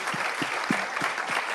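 At a World Health Assembly panel session, the audience applauds the panelists with a brief wash of crowded clapping, a few louder nearby claps thumping out at a steady pace.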